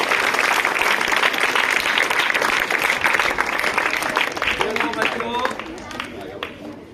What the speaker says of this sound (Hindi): तो भाई सर के लिए जोरदार तालियां हो जाए।